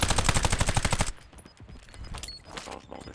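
Automatic gunfire in Call of Duty Black Ops, a loud rapid burst of machine-gun shots for about a second, then scattered quieter shots and game clatter.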